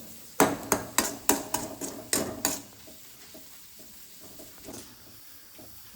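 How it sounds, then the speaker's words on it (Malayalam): Grated coconut frying and being stirred in a pan, a run of sharp scraping knocks from a utensil against the pan at a quick, steady rhythm, then a soft sizzle with occasional lighter taps; no speech. "തേങ്ങയാണ് നമ്മൾ ഫ്രൈ ചെയ്തെടുക്കുന്നത്."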